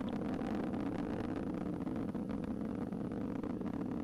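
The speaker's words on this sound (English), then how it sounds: "we're throttling up on the RD-180s, still seeing a normal burn profile on the SRBs" Atlas V 551 rocket climbing on its RD-180 engines and solid rocket boosters, a steady dense roar heard from a distance, constant and unbroken.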